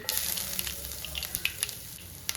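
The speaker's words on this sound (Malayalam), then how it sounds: "കടുക് ഒന്ന് പൊട്ടി വന്നോട്ടെ നമ്മുടെ കടുക് പൊട്ടി വന്നിട്ടുണ്ട്" Mustard seeds spluttering and chopped ginger frying in oil for a jackfruit seed and prawn stir-fry; a soft steady sizzle with scattered sharp pops and crackles, close and fairly quiet.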